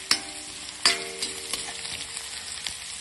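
Garlic and onion sizzling in a wok-style pan, a steady frying hiss with two sharp scrapes or clatters near the start and lighter stirring taps after, no voices.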